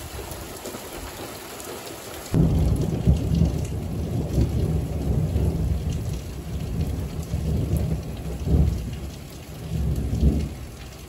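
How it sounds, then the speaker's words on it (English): Warm summer rain pours steadily in a Bulgarian village while a thunderstorm rumbles, starting abruptly after a quiet opening with low rolling thunder swelling twice over the constant hiss of nearby rainfall. "So that was thunder."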